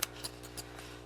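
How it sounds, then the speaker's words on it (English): Fabric scissors snip through burlap in a few crisp, close cuts, spaced unevenly over a faint background hum. "fabric scissors that I use when I'm doing paper crafts"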